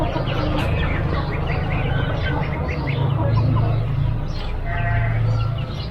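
Farmyard chickens and chicks cheep and cluck in scattered, fairly close calls while a person talks over them.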